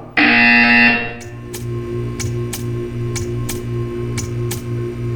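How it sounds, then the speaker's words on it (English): A loud buzzer from the video game Portal 2 blares for about a second, then gives way to a steady, evenly spaced ticking over a low background hum. "You will hear a buzzer. When you hear the buzzer, stare at the art."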